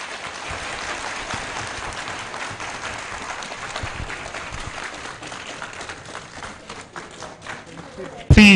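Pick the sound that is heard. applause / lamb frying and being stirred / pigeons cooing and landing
applause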